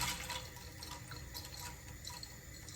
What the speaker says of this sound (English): we're just gonna add a bit more water so we cover it in the pot